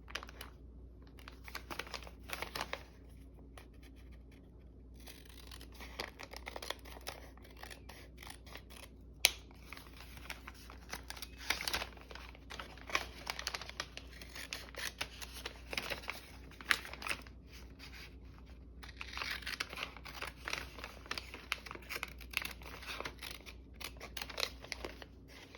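Scissors cutting out a bag for a craft project, quiet intermittent snips and crinkling paper rustles that come in irregular bursts, close to the listener, with no talking.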